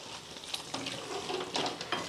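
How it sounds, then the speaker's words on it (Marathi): Potato bhaji masala sautéing in oil in a pan, a steady soft sizzle with occasional stirring scrapes and clinks, fairly quiet and with no talking. "आता असंच परतून घ्यायचं।"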